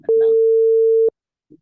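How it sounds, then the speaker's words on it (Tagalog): A single steady telephone busy-signal tone sounds loud and close for about a second, with a brief murmur of voice just before it and a faint sound after. "tawagan ko to ha"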